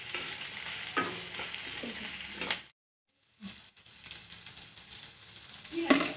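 Sliced onion and two green chilies fry in a pan while a spoon stirs them, giving scraping clatters over a moderate sizzle with a short silent gap midway.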